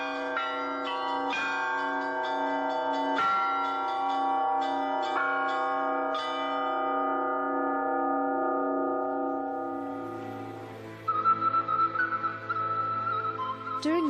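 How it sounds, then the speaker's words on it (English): Church bells in Moldova ring in a ringing-art gathering, several struck strokes early on leaving long overlapping resonant tones that slowly decay, with a higher whistling tone and faint crowd noise rising near the end. "The art of bell ringing brings together the most well-known ringers from all the world."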